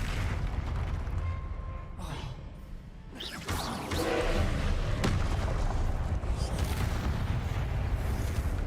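Expelliarmus and Confringo spells are cast in the game Hogwarts Legacy, producing a dense, loud stream of booming combat effects. A sharp whooshing blast lands midway, and a crisp crack follows.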